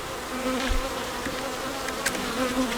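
Honey bees buzz steadily at a hive during a honey flow, a close, continuous drone with a brief louder pass or two.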